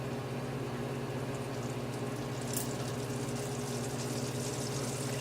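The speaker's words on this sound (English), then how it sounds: "Okay, we have a sizzle here" A steady bubbling, hissing sizzle from a hot pot making a seafood mac and cheese sauce continues without pause, with a constant low hum underneath.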